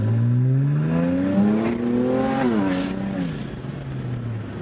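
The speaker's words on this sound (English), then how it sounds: "we can hear the exhaust echoing off some buildings" Straight-piped twin-turbo BMW exhaust with ARM downpipes roars loudly as the engine revs up through a hard pull, echoing off buildings, pitch climbing steadily, then drops at a shift and settles into a lower drone.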